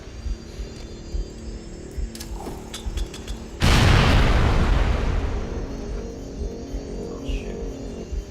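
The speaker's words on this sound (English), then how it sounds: "He threw the grenade back at me." A grenade detonates in a video game firefight: faint clicks and small pops lead up to one sudden loud, close blast that rumbles and slowly decays over several seconds before fading to quiet background.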